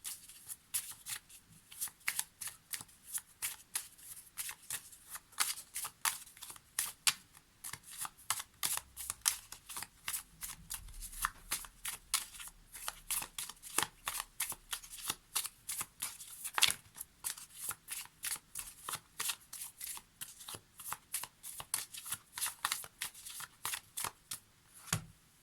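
Oracle cards being shuffled during a tarot reading, with a long run of crisp, rapid riffling flutters that come in close bursts and keep going with only brief pauses.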